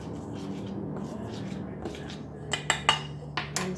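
Dry banana bread ingredients, including baking soda and salt, stirred in a bowl, with soft scraping followed by several distinct clinks and taps of a utensil against the bowl toward the end.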